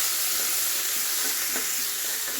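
Onion frying in hot oil while tomato rice is being made, giving a steady, close, continuous sizzle with faint stirring underneath and no talking.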